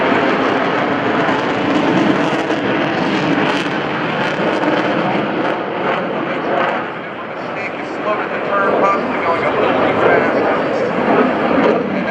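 Military jets fly level in a Fleet Air Power demonstration at the 2015 NAS Oceana Airshow. Their loud, sustained roar fills the air, dips briefly midway, then swells again.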